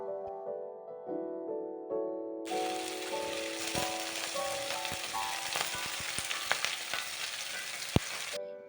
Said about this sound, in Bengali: এবার এই আলু ও পেঁয়াজ কলিটাকে ভালো মতন নাড়াচাড়া করে নিয়ে একটু ভাজা ভাজার মতন করে নেব